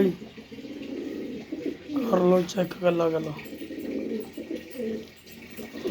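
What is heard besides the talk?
pigeons cooing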